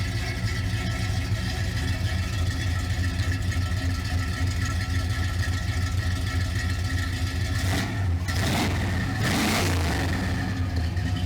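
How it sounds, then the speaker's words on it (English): A 1970 Pontiac Grand Prix SJ with headers rumbles loudly through its exhaust at a steady fast idle, with a couple of brief revs near the end. "There's the exhaust, got some nice little sound to it."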